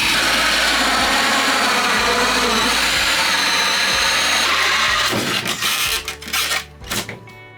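A power drill runs loudly and steadily, its whine cycling, then bites through a pop-up camper wall from outside with rougher grinding bursts before stopping.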